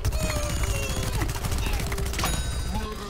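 Rapid video-game gunfire from a zombie-shooting game, fast machine-gun bursts that crackle continuously over a low rumble, with excited voices talking over it.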